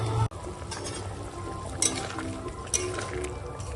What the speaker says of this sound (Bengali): ঝোলটা আগে ফুটে যাক